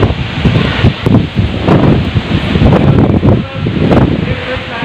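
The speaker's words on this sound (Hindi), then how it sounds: "तो बहुत तेज़ हवा है।" Strong wind roaring outdoors beside a house during a storm, loud and gusty with constant rushing and buffeting against the microphone, no talk heard.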